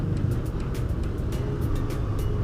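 Road traffic rumbles steadily around a motorcycle taxi weaving through congested city streets, with car engines forming a dense, continuous low drone and faint higher hiss, fairly close and unbroken throughout.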